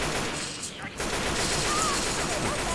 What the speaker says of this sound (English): Do not shoot me. Please stop with the shooting.